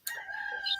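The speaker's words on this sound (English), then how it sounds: "The roosters was loud." A cockerel crows once, a short, close, clear cock-a-doodle-doo with no other sound around it.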